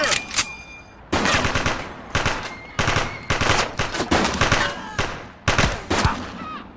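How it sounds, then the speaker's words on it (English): Loud bursts of automatic gunfire from the police video game The Precinct come in several rapid volleys separated by short pauses, each a dense rattle of close shots. "Shots fired! I will shoot you."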